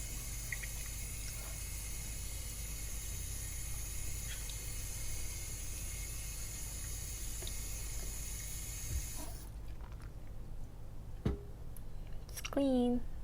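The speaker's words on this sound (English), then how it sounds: "So just wash it with soap again." Running tap water pours steadily while a Philips Sonicare toothbrush head is washed with soap, then the flow stops and a few soft clicks and splashes follow.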